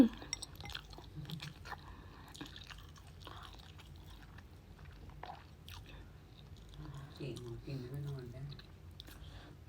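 Someone chewing grilled pork (moo ping), quiet and close, with wet bites and crunchy mastication and a few faint murmurs alongside.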